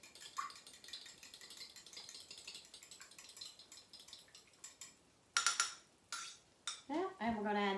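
Cream being stirred into a tuna noodle casserole in a pan, with a series of soft scraping and clinking utensil-on-pan sounds, some louder knocks near the end.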